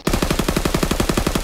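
Rapid automatic gunfire from a World War II-era weapon in the Call of Duty: WWII Ground War mode, a steady burst of about sixteen evenly spaced shots, loud and close, with no talking.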